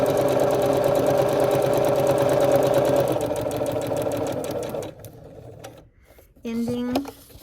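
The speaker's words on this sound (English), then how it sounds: "Now I'm sewing on the line between A2 and A3, starting a few stitches before." A sewing machine stitches along a foundation paper piecing line with a steady, rapid mechanical clatter for about five seconds, then stops, followed by a brief snip and some rustling.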